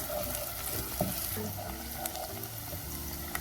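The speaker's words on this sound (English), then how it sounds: "It's 1 medium onion, gonna saute them till they get a little bit golden color." Diced medium onion sautéing in a pan for Palestinian maftool, a steady close sizzle with a few light scrapes and clinks of stirring.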